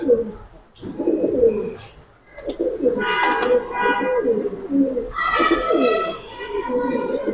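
Pigeons cooing in a loft or market setting, repeated soft throaty coos and some chirps close by, heard under ongoing conversation between people.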